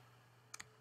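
Computer keyboard typing Java code: a few sharp, close key clicks near the end of the moment, quiet otherwise.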